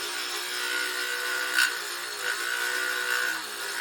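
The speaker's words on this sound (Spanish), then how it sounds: "Con la misma caladora de banco haré los recortes del dibujo que hice en la cara de la jaladera." Benchtop scroll saw cutting decorative shapes into a wooden drawer pull, a steady buzzing rasp with slight surges as the blade bites, close and continuous.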